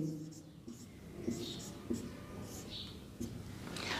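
Chalk or marker writing on a classroom board during a Hindi grammar lesson, with scratchy strokes and taps spread across a few seconds while a faint voice murmurs in the background.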